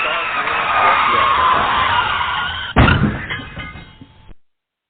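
A car's tires screech loudly for a few seconds, then a sudden heavy crash hits, followed by rattling debris that fades out.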